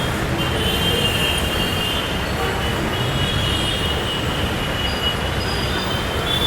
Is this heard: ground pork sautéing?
no